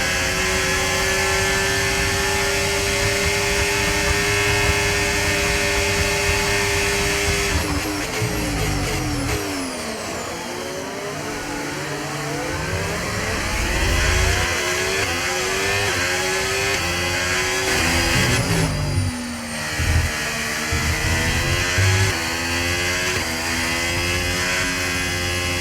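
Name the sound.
racing car engines during a race in a video game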